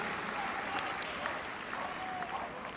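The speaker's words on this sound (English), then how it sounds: "Give him a round of applause." An audience at the Crufts 2017 Kennel Club British Open Jumping Final agility event claps in a dense, steady wash of applause that lasts the whole moment, with faint crowd noise mixed in.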